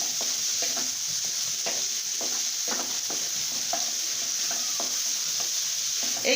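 Lentils for khichuri being stir-fried in a pan, a steady sizzle underneath with repeated scraping strokes of a spoon at an irregular pace, close and fairly loud with no talking.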